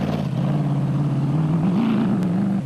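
Off-road racing vehicle in South African off-road racing, driving fast on a racing lap, its engine droning steadily and loudly throughout with a slight rise in pitch, no voices.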